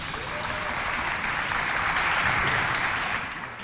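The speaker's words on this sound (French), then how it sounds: "On applaudit bien fort." Audience applause breaks out for contestants at a children's quiz competition between a foundation and an SOS children's village, a dense, steady wash of clapping that swells slightly midway and holds loud throughout, with no talk over it.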